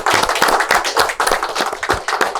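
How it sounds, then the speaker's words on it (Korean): An audience claps at a political campaign event in Incheon as a candidate finishes closing remarks, a loud, dense run of hand claps with a few sharper individual claps standing out, no talk over it. "마무리 인사하실 때는 박수로."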